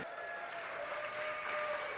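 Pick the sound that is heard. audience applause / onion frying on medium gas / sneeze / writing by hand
audience applause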